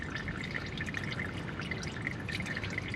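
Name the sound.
engine oil dripping from a Dodge Charger Hellcat's drain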